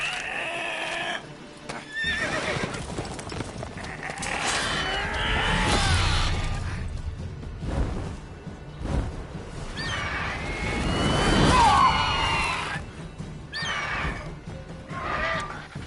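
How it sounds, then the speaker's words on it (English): In Witcher 3, a horse being mauled by a griffin neighs and whinnies in several loud, strained cries, mixed with rushing, whooshing game effects and struggling sounds. "his horse is getting mauled by a griffin"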